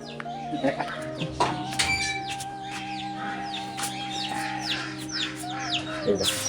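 Chickens cluck and a rooster calls repeatedly on a farm where small white chicks are kept, the fowl noises layered over a steady low hum with occasional bright chirps.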